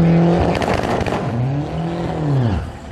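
A 2016 Volkswagen Golf R MK7, all-wheel drive with 300 horsepower, launches against a Neon at a drag strip, its engine snarling loudly and rising in pitch through quick gear changes, close and dominant with no talk.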